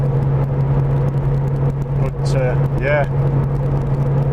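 Car cruising on the A1 motorway, a steady engine drone and low road rumble inside the cabin with a constant low hum, while someone talks briefly over it.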